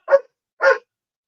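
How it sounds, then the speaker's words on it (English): A dog barks twice, two short separate barks about half a second apart, fairly close and alone with no talk around them. "Stupid dog's barking."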